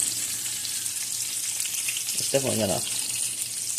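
Frozen fries frying in hot oil give off a constant bright hiss and sizzle, with a brief voice cutting in partway through.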